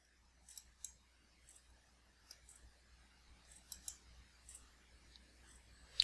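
Faint, sparse mouse clicks while a folder icon is selected in a library search interface, with a few isolated quiet taps spread across the stretch and a sharper click at the end.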